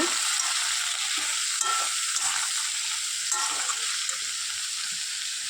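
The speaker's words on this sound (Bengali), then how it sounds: "ঝিঙেগুলো দিয়ে আমি এটাকে ভালো করে একটু নাড়াচাড়া করে নেব" Sliced ridge gourd hits a hot pan for an aloo posto dish and sizzles loudly and continuously, with a steady broadband crackle and occasional stirring scrapes close by.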